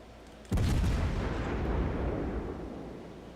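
Naval artillery in the World of Warships video game: one sudden, loud boom hits, then a heavy rumbling tail slowly fades over a few seconds, with no talking.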